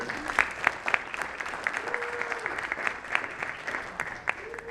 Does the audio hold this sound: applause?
yes